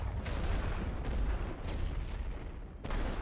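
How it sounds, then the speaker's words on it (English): Artillery in the First World War strategy game The Great War: Western Front pounds infantry, a rumble of several deep, booming shell impacts and blasts rolling close together. "I'm just going to hit these infantry with some artillery."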